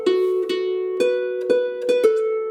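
Slow fiddle-style melody with a short B grace note flicked in before each sustained A, a clear bowed tone with rich harmonics, sounding alone at moderate volume.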